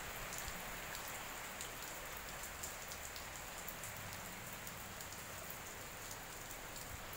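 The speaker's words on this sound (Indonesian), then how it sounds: "hujan ya di Karangmojo Gunung Kidul" Rain falls in Karangmojo, Gunungkidul, a steady, even hiss of drops pattering on surfaces throughout, with faint scattered taps and no voices.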